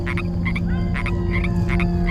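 Bullfrogs croak in a chorus beside a wetland at night, deep repeated calls pulsing steadily in bursts over a constant low background drone, fairly close and loud with no voices.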